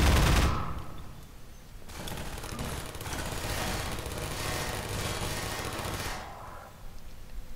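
Automated turrets in Half-Life 2 firing in sustained rapid bursts, a dense mechanical rattle of gunfire that runs nearly the whole stretch, loud and close, with no voices over it.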